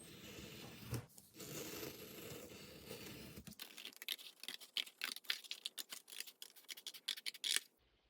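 Scissors snip repeatedly through craft material for a DIY gift card holder, a quick run of close, crisp cuts following a quieter stretch of handling noise.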